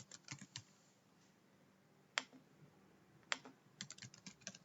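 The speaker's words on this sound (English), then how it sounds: "we will type in our selected keywords into the search toolbars" Search keywords are typed on a computer keyboard, quiet close key clicks in short irregular bursts with a couple of sharper taps and pauses between.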